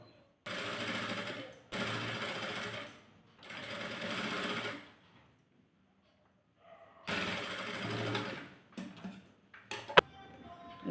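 A sewing machine stitches along folded cloth for a baby frock in several runs of steady whirring, each lasting a couple of seconds and separated by pauses, with light clicks and handling noises near the end.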